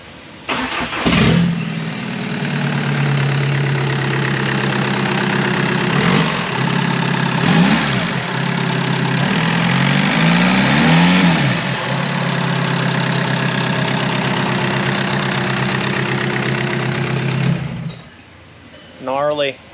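VW TDI Sportwagen diesel with a Rawtek exhaust left disconnected just after the manifold, starting up and idling loudly and steadily, with a couple of short revs in the middle and voices talking over it.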